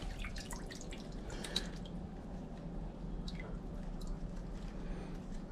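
Water dripping and trickling quietly while Aglaonema Two Tone Moonstone roots are washed, soft close splashes and drips over a low steady background hum.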